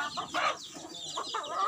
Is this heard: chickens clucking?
yes